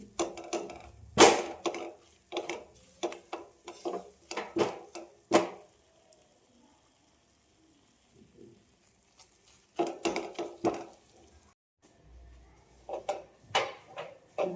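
Maida flour being stirred and roasted in a pan for barfi, with a spoon scraping and clinking against the pan in bursts of close, irregular taps, then a quiet stretch before the stirring resumes.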